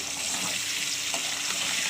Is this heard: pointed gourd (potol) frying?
yes